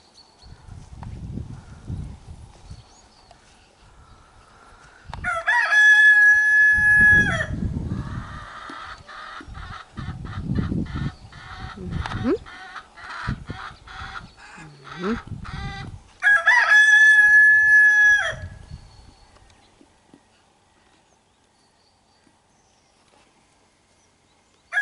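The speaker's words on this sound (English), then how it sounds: "And that's the rest of the chickens." Rooster crows twice loudly among a flock of chickens clucking nearby, with steady scratching, rustling and low background sounds throughout before the yard goes quiet near the end.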